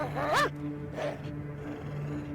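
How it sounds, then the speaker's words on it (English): Wild wolves in Yellowstone barking at a bear: a sharp, yelping bark with a rising and falling pitched cry, then a second shorter bark, heard at moderate distance over a steady low outdoor hum. "The alpha wolf attempts to intimidate her with aggressive lunges and sharp barks"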